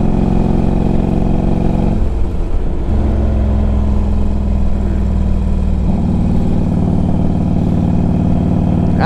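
A 2005 Harley Davidson Road King Classic motorcycle engine runs close and loud with a deep, lumpy idle, dipping briefly around two seconds, then picking up pitch as it revs and settles into a steadier higher throb near the end.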